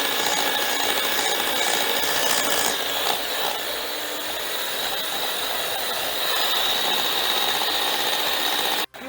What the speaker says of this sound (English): So I'm just going to turn this up and beat this on very high speed.